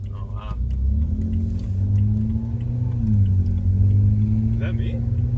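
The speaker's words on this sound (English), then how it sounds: "I've never heard you floor the car" A BMW fitted with exhaust cutouts accelerates hard, its engine revving in a loud, steady, rising drone, with people talking over it throughout.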